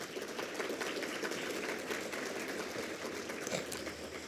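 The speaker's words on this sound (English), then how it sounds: "Let's give her a round of applause." An audience at a luncheon applauds with steady, dense clapping that holds at an even level throughout, a full room of hands with no talking over it.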